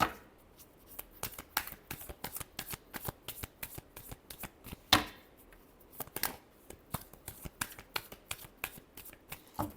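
A deck of tarot cards is shuffled nearby in a quiet room, giving a steady run of quick, crisp riffling clicks and flicks with a brief pause midway and no talking.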